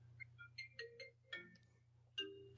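A mobile phone rings in a classroom with a short run of electronic chime tones, faint and intermittent over a steady low hum, with no talking.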